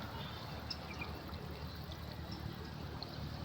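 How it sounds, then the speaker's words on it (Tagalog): Strong, steady rush of water gushing from a water district pipe outdoors at a farm plot, a continuous broadband splash with no pauses. "Lakas ng tubig."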